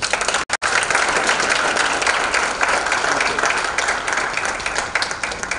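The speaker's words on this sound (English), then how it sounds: "I think he deserves another clap." Audience at an Africa heads of states summit side event clapping, a dense sustained round of applause from a sizable crowd, loud and steady throughout.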